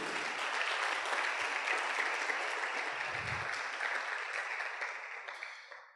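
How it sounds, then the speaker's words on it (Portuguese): A church congregation claps in praise, a dense, steady wash of applause that holds for about six seconds before thinning out at the end, with no voices over it. "Dê uma salva de palmas ao Senhor por isso."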